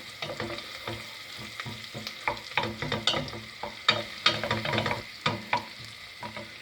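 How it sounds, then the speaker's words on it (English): A spoon stirs pasta sauce with soft meatballs in a pan, giving a close series of wet scraping and squelching strokes over a light sizzle, with no talking. "And stir that again."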